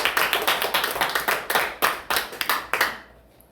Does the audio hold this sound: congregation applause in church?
yes